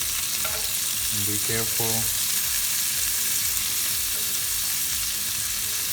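Kofta kebabs sizzling in a pan as they are flipped, a loud, constant hiss of frying oil with a few brief turning sounds and a short remark from someone speaking over it.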